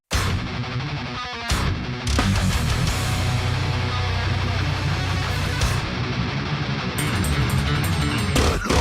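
Technical death metal from a Vancouver band, dense fast drumming, distorted guitars and harsh vocals playing loudly and continuously with brief breaks.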